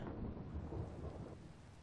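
A Minecraft thunderstorm rumbles with steady rolling thunder and hissing rain, continuous and fairly quiet with no voices.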